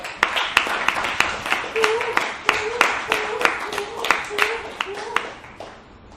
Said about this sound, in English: Give this guy a huge round of applause.